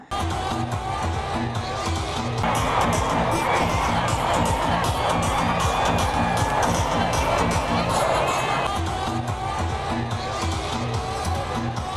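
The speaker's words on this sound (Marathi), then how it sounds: "यावेळी मैदानात खेळाडू, क्रीडाप्रेमींनी मोठा जल्लोष केला" Players and football fans celebrate on the field after their team wins the Satej Cup final 4-2, a loud, dense crowd roar with cheering and shouting swelling through the middle, close and continuous.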